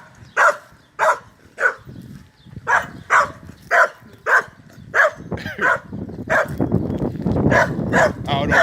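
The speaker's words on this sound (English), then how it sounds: "There's a little dog." A small dog barks in a steady run of sharp, evenly spaced yaps, close and loud, with someone speaking over the later barks and background noise rising toward the end.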